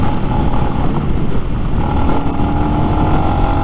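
A Lifan X-Pect motorcycle engine drones steadily while riding, a loud, close, continuous rumble with a constant pitch and no breaks.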